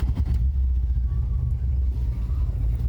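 A Toyota Corona RT142 engine cranks and runs with a loud, close, steady low rumble throughout, a brief catch at the start, no talk over it.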